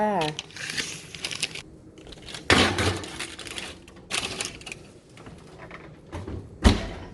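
A baking tray of pumpkin seeds on parchment paper slides into an oven with a few clattering, scraping bursts and a door thump, close by, with some talk in the background.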